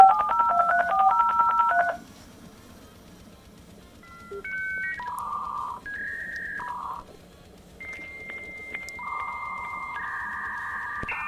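AOL-era dial-up internet modem connecting: a burst of touch-tone dialing, a pause, then a sequence of steady electronic tones and warbling handshake beeps at moderate volume.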